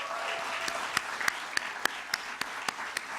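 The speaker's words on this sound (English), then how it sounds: "We need to applaud them." Audience at the HLSCC graduation applauds steadily, a broad wash of many hands clapping with a few sharper individual claps standing out, moderately distant with no talking over it.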